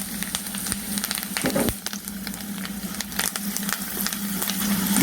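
Chopped ginger frying in hot oil for a Tulu-style chutney tempering, giving a continuous close crackling sizzle with scattered pops and a low steady hum underneath, no talking.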